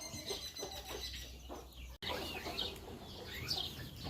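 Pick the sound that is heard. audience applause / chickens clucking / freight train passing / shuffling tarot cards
chickens clucking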